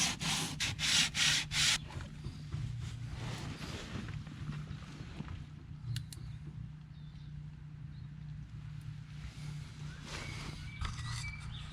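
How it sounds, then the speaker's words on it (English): Close, rhythmic hand sanding scrubs over the wooden keel box of a small boat, a few quick strokes at first, then a steadier, quieter rubbing. "I've given that a sand and given it a round"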